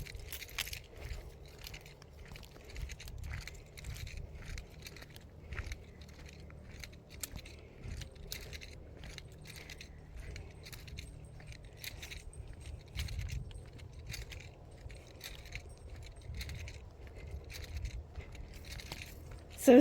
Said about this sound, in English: that noise of my keys is going to drive me nuts